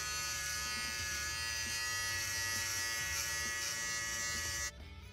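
An electric shaver running steadily while shaving a head before a hair system install, a close, constant high buzz that drops off abruptly near the end.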